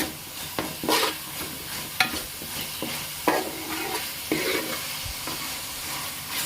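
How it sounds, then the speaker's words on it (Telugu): Onion paste frying in oil over medium heat for a fish curry, with a steady soft sizzle broken by several sharp scraping stirs of a spoon against the pan, close by. "ఈ ఉల్లిపాయ పేస్ట్తో సహా దీన్ని కూడా బాగా మగ్గించుకోవాలి"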